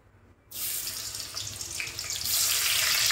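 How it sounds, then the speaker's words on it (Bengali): Onions drop into hot oil in a pan and set off a sudden burst of close, crackling sizzle that keeps going and grows a little louder toward the end, with no talk. "তার তেলটা গরম হয়ে গেছে, এখন আমি দিয়ে দিচ্ছি পেঁয়াজগুলো"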